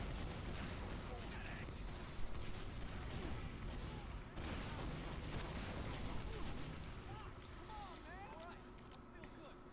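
Team Fortress 2 bombing explosions, repeated booms and gunfire rumbling continuously under a dense layer of battle noise, fairly faint and distant.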